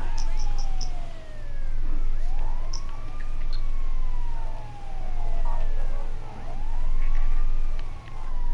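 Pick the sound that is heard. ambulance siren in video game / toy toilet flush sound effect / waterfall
ambulance siren in video game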